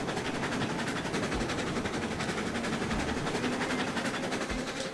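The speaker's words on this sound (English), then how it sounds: "Let's get a nice shot of this train coming over this spot here." In the Railroads Online video game, a train passes with a steady, dense mechanical roar and rumble, periodic low clunks of wheels over track joints, continuous and fairly close, with no talking.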